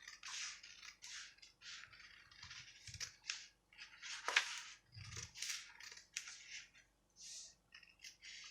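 Scissors cutting a paper bustier front pattern with a shoulder dart, heard up close as a rapid series of crisp snipping and rustling strokes with brief pauses, and no talking.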